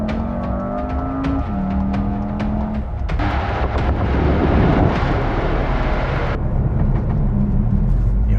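A loud VW Tiguan R engine revs and roars up close through a four-tip Akrapovic exhaust, with sharp crackling pops and bangs from the exhaust in the middle stretch.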